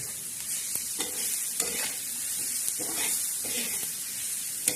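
Onion chutney with green chilli and garlic is stirred and sautéed in a hot pan, giving a constant soft sizzle broken by occasional scrapes of a spoon, close up and fairly quiet.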